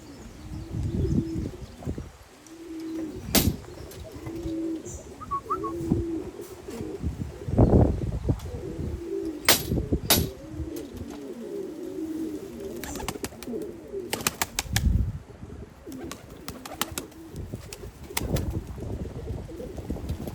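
An ash-grey male pigeon in courting mood coos in low, repeated rolling phrases while adapting to a new loft beside a female, with soft rustles and scattered clicks and knocks throughout.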